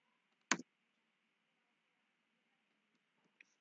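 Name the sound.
computer mouse clicks while drawing in AutoCAD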